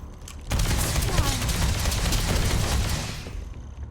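Heavy gunfire with many rounds fired, a dense, loud, sustained volley of overlapping shots that crashes in suddenly and rolls on for several seconds before tailing off.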